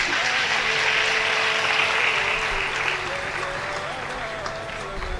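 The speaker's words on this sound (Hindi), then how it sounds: "बहुत जोरदार तालियां इनके लिए" An audience at a religious gathering claps loudly and steadily, with faint voices beneath and the applause easing slightly toward the end.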